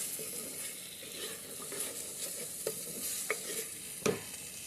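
Chili powder, salt and coriander powder fried in a pan for a paneer masala curry, with a low, quiet sizzle under occasional spoon scrapes and clinks that sharpen toward the end.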